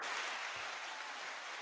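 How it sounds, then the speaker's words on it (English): Applause from a late-night live show audience, a steady broadband wash of many hands clapping at once, loud and sustained through the whole moment with no voices on top. "That was applause."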